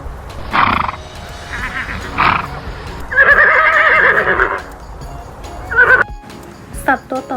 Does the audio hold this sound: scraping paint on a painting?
no